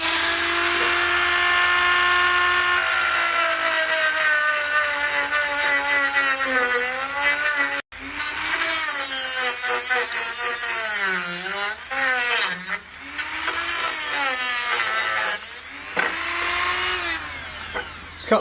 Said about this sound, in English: It's cut through a piece of thin wall copper pipe